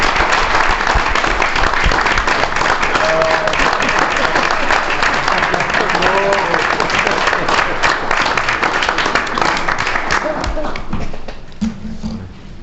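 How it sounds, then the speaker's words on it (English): Attendees at a city council meeting give a sustained round of applause, thick and continuous with faint voices mixed in, then thinning and tapering off near the end. "if y'all join me in a round of applause,"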